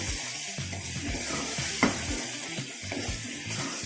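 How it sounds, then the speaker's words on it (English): Thick chicken curry masala paste sizzles in a hot pan while a spoon scrapes and stirs it, giving a steady close crackle with soft scraping knocks and one brief louder clink, no voices. "We'll give it a quick stir again."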